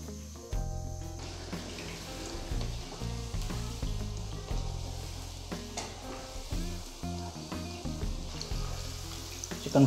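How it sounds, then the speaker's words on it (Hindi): Chicken Manchurian balls frying in oil over a medium flame, a steady crackling sizzle with background music running throughout, no talking. "मीडियम फ्लेम पे इसको लाइट ब्राउन कलर आने तक फ्राई कर लें।"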